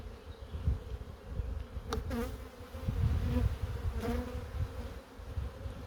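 Honeybees swarm around an open hive during a brood-frame inspection, making a dense, continuous buzzing drone close by, with individual bees zipping past now and then.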